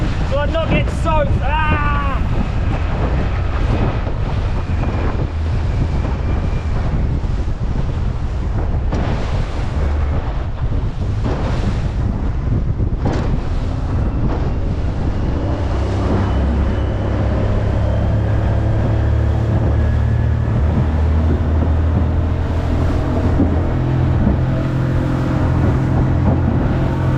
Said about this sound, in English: The wind has picked up, it's like 25 knots.